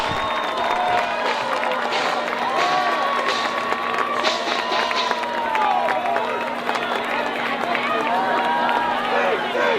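A home crowd roars and cheers at a high school varsity football playoff game after a kick, a dense continuous wall of voices and scattered clapping that stays loud throughout.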